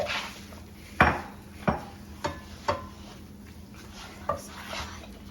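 A utensil stirs marshmallows and butter in a pan, several sharp scraping knocks against the metal spaced about a second apart over a soft background hiss.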